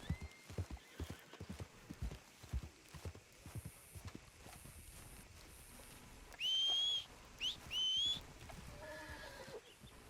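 Horse hooves clip-clop in an irregular rhythm in Red Dead Redemption 2, followed by a high whistle-like tone and a horse's whinny, all fairly faint and close.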